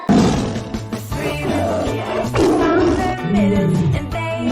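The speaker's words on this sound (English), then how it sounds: "T for tiger." A tiger's roar set into a children's alphabet rhyme, a loud, sustained growling roar over busy backing music for the full stretch.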